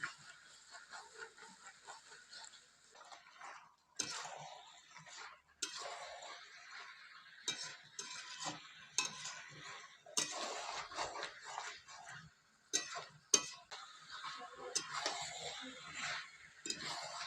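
Meat stirred with a ladle in a pot over a wood-fired stove, close irregular metallic scrapes and clinks that come in short bursts between quieter moments.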